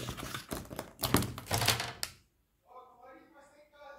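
Paper is cut for a bellows box craft: about two seconds of crisp, rapid snipping and tapping, then a quieter stretch with a voice speaking.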